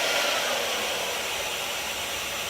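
A GHD hair dryer on its full setting gives a loud, steady whooshing roar with no pauses, very close and alone, with no voices over it.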